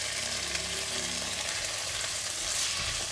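Choy sum stems stir-frying with light soy sauce and oyster sauce in a Chinese-style vegetable stir fry, a continuous close sizzle with scraping stirs throughout.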